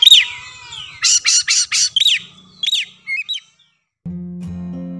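Small-bodied kacer, or magpie-robin, calling loudly and close: a rapid string of sharp, squawky whistled notes in quick bursts, then silence, followed by a low steady hum.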